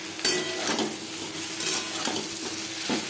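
Potato and pointed gourd sizzle in a pan with spices while a spoon scrapes and stirs through them in repeated strokes, close by and fairly loud.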